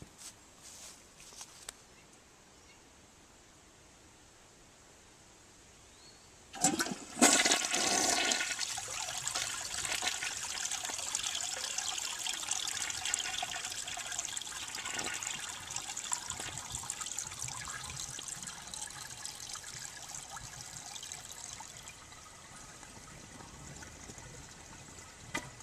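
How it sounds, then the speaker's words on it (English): A 1970 American Standard Cadet toilet flushes with a sudden loud rush of water after several quiet seconds, then settles into a long, fading trickle and gurgle as the tank refills. "And now for one last flush of the 1970s Cadet."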